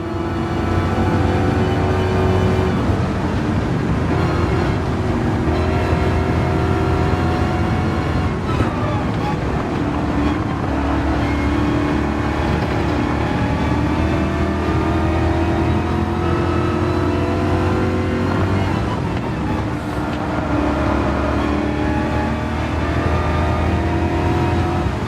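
Racing cars, an Audi R8 and a Mercedes-AMG, overtaking in Gran Turismo, with a continuous loud engine drone and shifting revs running the whole time under steady commentary.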